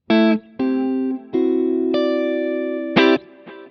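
Clean electric guitar through a Tonex capture of a Fender Pro Reverb amp, several separate notes and chords, each ringing out before the next, close and loud with no talking.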